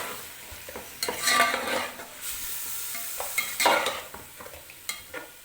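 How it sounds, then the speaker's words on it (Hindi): Chopped onions and chicken frying together in a pan, with a continuous close sizzle broken by bursts of spoon stirring and scraping against the pot, and no voices. "प्याज के साथ हमने चिकन को अच्छा सा भून लिया है"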